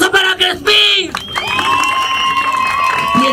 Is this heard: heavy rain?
no